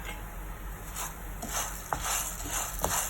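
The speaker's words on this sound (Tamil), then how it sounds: "1 கப் உளுத்தம்பருப்பு அதையும் போட்டு வறுத்துக்கலாம்." Chana dal and urad dal roasting in a pan for pirandai podi, with a steady dry sizzle, light scraping and stirring, and a couple of sharp clinks from a utensil against the pan, close and continuous with no talk.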